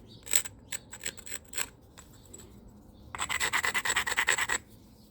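A sandstone hammerstone grinding an isolated bevel on a stone edge, first a few separate scraping strokes, then a quick rhythmic run of about a dozen harsh rasping rubs, close up.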